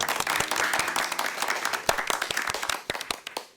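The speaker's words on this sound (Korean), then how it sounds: "아이들은 박수를 쳤고" Classroom children clapping in a Korean horror radio drama: a small group's crisp, uneven claps that thin out into a few scattered final hand claps.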